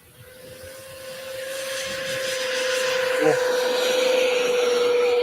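An RC jet with twin 64 mm ducted fans at about half throttle, a steady high-pitched whine that swells as the plane closes in on a pass and stays loud to the end.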